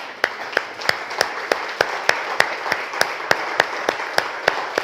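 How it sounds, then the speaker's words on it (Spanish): Slow, steady hand clapping at a church worship service, about three claps per second, sharp and evenly spaced over a soft crowd murmur, like a small group clapping in unison. "Démosle un aplauso al Señor"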